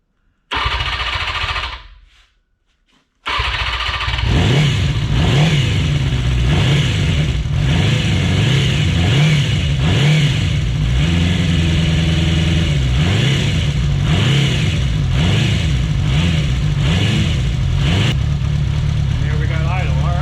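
Vintage motorcycle in a workshop sputters to life after a silent pause, then revs in a loud steady run with rhythmic throttle swells before settling toward idle.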